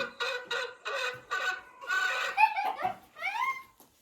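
A hen's clucking plays from a mobile phone as a prank on a rooster, coming in several loud bursts of harmonic cackles with brief gaps, with squawking calls toward the end.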